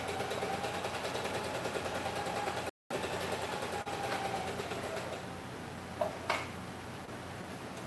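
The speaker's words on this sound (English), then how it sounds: "Yeah, I'll sew up these darts too." A sewing machine stitches a fabric mask with a fast, even mechanical whirr, close and fairly quiet, broken by a brief pause and a few small clicks.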